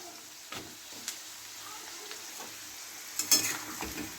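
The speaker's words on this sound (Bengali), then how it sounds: "কচুটা, আলুটা, ডাঁটাটা ভালো করে ভেজে নেব। আমি এবার মূলো দিয়ে দেবো।" Taro, potato, vegetable stems and radish frying in a pan for a Bengali spinach chorchori, a soft steady sizzle with a few scraping stirs and clatters, fairly quiet.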